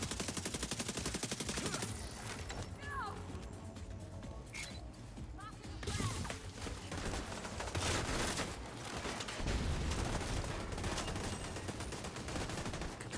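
Rapid bursts of turret gunfire in The Division 2, loud and dense, rattling over a busy mix of game effects, with someone talking over the shooting.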